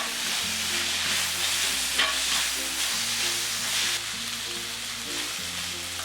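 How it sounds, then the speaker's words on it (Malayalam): Ginger garlic paste with chillies sautéing in a pan, a continuous bright sizzle with soft stirring beneath, close and steady over a low background hum, no voices. "ഒന്നര table spoon ginger garlic paste ഇതിലിട്ട് ഒന്ന് വഴറ്റി കൊടുക്കാം."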